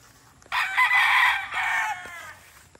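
A gamefowl broodcock rooster crows once, loud and close, a single drawn-out call of about a second and a half over a quiet background.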